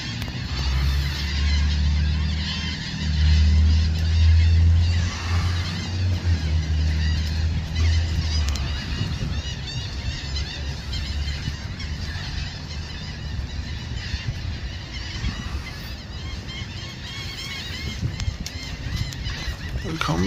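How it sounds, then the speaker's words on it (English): A large flock of seagulls calling as they circle in a swirling evening mass before sunset, many overlapping honking, squawking cries that continue throughout, with a loud low rumble of wind or handling early on. "Behold the seagull tornado."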